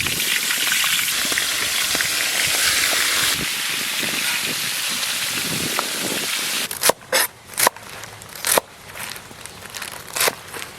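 A pomfret fish head frying in hot mustard oil gives a steady loud sizzle and crackle for several seconds, then the hiss thins into separate sharp pops and spatters.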